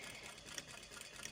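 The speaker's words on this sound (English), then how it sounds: "with my right hand just gently allowing the horsehair braid to go through the" Sewing machine stitching horsehair braid onto the hem of a prom gown, a quiet steady whirring hum with faint rhythmic ticking throughout, no talk.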